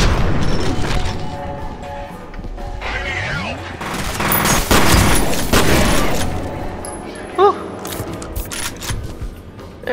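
Rapid gunfire bursts and booming shots from the first-person shooter game F.E.A.R. crowd a dense, noisy battle mix, with a few sharp isolated cracks near the end.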